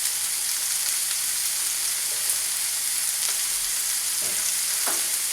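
Bacon grease sizzles in a pan with a steady, close hiss and a few faint clinks of cookware near the end.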